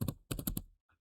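Several quick bursts of key presses on a computer keyboard, close and fairly crisp, with a short pause between a first pair of strokes and a run of four, followed by silence.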